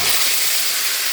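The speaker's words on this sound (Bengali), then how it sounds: "বাগারে এটাই, বাগারের একটা শব্দ হবে, গন্ধ হবে।" Hot fried-onion tempering (bagar) poured into a dish of egg and potato curry, giving a loud, close, steady hissing sizzle with no break.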